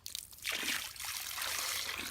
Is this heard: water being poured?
yes